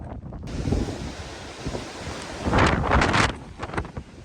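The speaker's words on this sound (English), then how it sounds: "And the wind is picking up again." Strong gusts of Storm Éowyn in Ireland buffet the microphone outdoors, swelling into a loud roaring burst midway before easing, with no speech.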